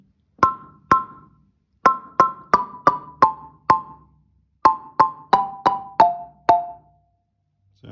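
Marimba plays the opening section of a piece as a string of crisp, ringing mallet strikes in uneven groups, each bar note decaying quickly, with short pauses between phrases and no talking.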